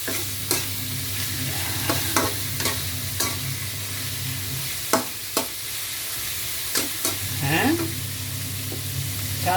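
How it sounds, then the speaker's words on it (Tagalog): Chicken tinola ingredients sautéing in a pan, a steady sizzle broken by sharp clinks and scrapes of a spoon stirring, with a low hum that drops out midway. "isama na rin natin sa pagsasangkot siya ang ating papaya"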